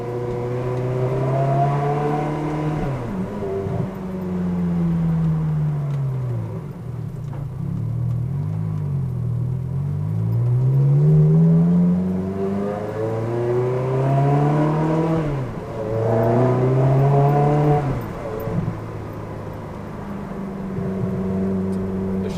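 A BMW M3 fitted with a Tubi Style exhaust drives at about 50 km/h while the driver plays with the gearbox, sending loud, close engine revs rising and falling in repeated waves, with no talking.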